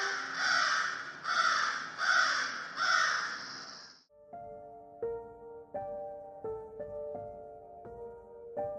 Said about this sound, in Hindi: कौवे उड़ने लगते हैं।